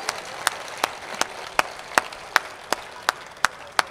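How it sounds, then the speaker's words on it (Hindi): An audience at a mushaira claps in a sparse, steady rhythm, about ten sharp distinct claps spaced roughly every 0.4 seconds, close and moderately loud over a faint background hiss. "एक बार खुल के सब लोग तालियाँ बजाइए"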